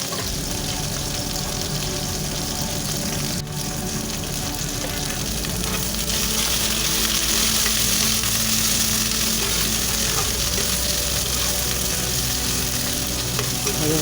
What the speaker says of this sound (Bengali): এবার আমি আলু পটলটা ভালো করে ভেজে নিচ্ছি।